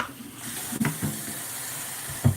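Dirty water running out of the hose of a Bissell PowerForce Bagless 6579-2 vacuum cleaner during cleaning, a steady close trickle and splash with a few louder gushes.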